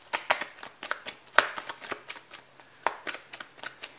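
Tarot cards are shuffled by hand in a run of quick, crisp riffling snaps and slaps, close and fairly quiet with no talking.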